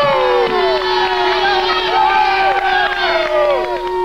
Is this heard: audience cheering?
yes